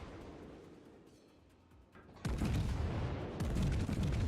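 A warship fires a main gun salvo in World of Warships, with a low rumble first, then a loud booming blast and a second heavy report rolling out after it.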